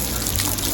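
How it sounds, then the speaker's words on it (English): A waterfall roars as a steady, close rush of splashing water filling the whole short stretch, with no voices. "I'm right next to a waterfall."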